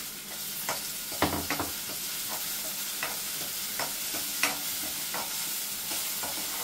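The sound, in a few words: tomato frying and being stirred in a pan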